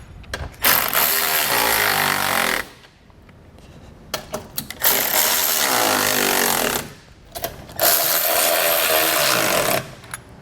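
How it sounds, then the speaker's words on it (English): Power tool driving and tightening the bolts that hold Aries round nerf bars to their mounting brackets on a 2022 Nissan Frontier, three loud sustained bursts of about two seconds each separated by short pauses, close up with no talking. "So now we're going to tighten down the bolts which secure the Nerf bars to the brackets."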